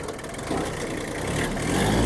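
A Kubota mini tractor engine chugs steadily while maneuvering and shifting down a gear, a close, continuous mid-pitched drone that swells slightly toward the end, with no voices.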